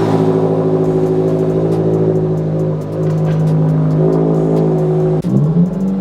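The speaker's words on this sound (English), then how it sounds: "Go ahead, fire her up, Logan." A 2024 Subaru WRX fitted with a short shifter starts up and revs, its engine note loud and close, holding a steady drone with a brief dip and a quick rev near the end.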